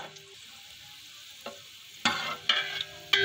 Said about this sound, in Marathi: जिरा चांगला चटकला आहे, त्यामध्ये तेजपत्ता घालू।